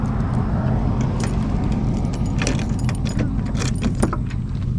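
Keys jangling close by for several seconds beside a beat-up turbo truck after burnouts, with a rough idling engine rumbling steadily underneath and small metallic clinks scattered throughout.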